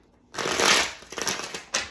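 A deck of tarot cards is riffled in one continuous close shuffle, a dense papery flutter lasting over a second, ending with a short final snap of cards.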